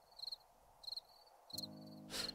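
Crickets chirping in the video game 7 Days to Die: faint, repeated high chirp bursts in short rhythmic pulses, with a low steady hum rising partway through and a brief hiss near the end.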